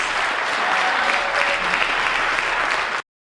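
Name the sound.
audience applause at a benefit concert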